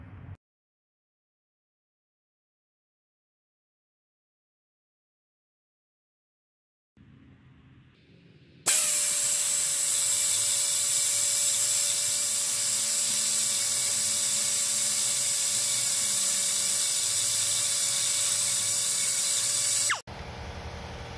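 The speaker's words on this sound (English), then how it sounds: "So I'm using my rasp or my deeper tool." A rotary burr or rasp-type tool roughens a metal surface during a parking brake modification on a 1999 Ford F-250 with a ZF6 transmission, giving a sustained high-pitched whine and grinding for about eleven seconds after a quiet start, close and loud.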